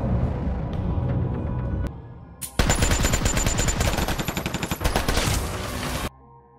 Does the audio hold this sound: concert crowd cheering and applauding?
no